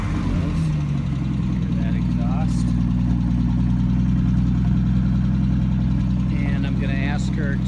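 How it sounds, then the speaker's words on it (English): A car engine runs at a steady, loud idle with a deep, continuous hum. The start itself is not clearly heard, and someone talks over the engine throughout. "my wife is going to start the car now."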